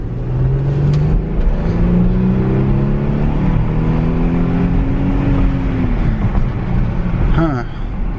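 A twin-turbo Audi allroad with air suspension accelerating hard, its engine note rising steadily and smoothly through the gears from inside the cabin, loud and continuous, with a brief voice near the end.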